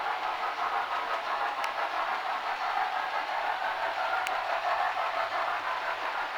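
A model Southeastern and Chatham Railway D class locomotive runs on DC, pulling birdcage coaches in dark lake livery. It makes a steady, even running rumble with a faint rhythmic clatter, with no talk over it.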